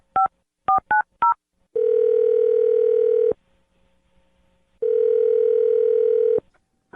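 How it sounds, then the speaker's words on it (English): Four quick touch-tone dialing beeps sound on a telephone line, followed by two long, loud ringback tones separated by a pause, heard alone without voices. "I'm going to dial his phone number right now"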